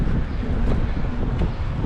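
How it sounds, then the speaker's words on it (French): Wind buffeting a microphone while gravel cycling in rain, a steady loud rushing roar with low rumbling gusts and no voices. "de la pluie, du vent et voilà"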